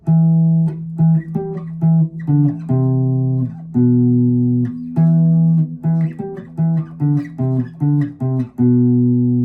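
Guitar riffs from a rock song played one after another, a steady run of picked notes and sustained chords with no talking.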